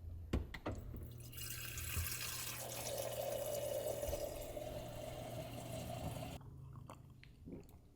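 A refrigerator water dispenser pours into a glass, a steady close stream rising slightly in pitch as the glass fills, framed by brief clicks of the lever before and after.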